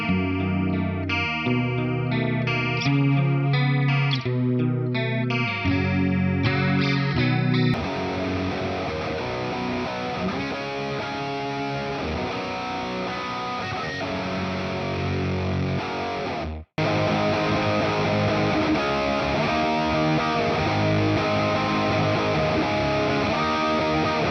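Heavily distorted electric guitar through an effects pedal plays loud, thick 90s-rock chords with a wash of effects, starting with choppy riffs and then sustaining a dense, roaring wall of sound from a hard-pushed amp.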